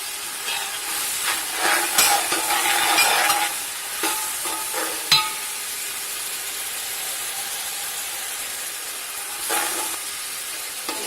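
Biryani masala and ground garam masala sizzle and fry in a pan, with a steady hiss broken by scraping stirs that come in bursts, close up and without talk.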